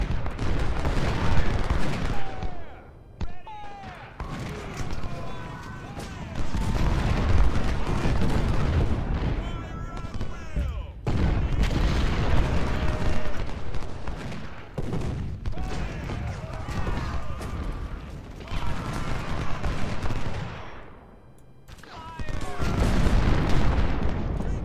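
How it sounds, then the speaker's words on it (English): Ultimate General: Civil War battle with artillery fire: rolling booms and gunfire volleys, heavy and continuous, with talk over the top. "Let's give them some more artillery support, shall we?"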